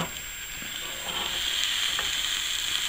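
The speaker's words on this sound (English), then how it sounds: "Okay, now we're gonna flip it." A freshly flipped egg omelette sizzles in a hot pan with a continuous crackling hiss that swells a little louder after the first second, close and without talk.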